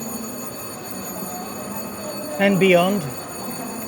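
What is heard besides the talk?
train departing a Paris station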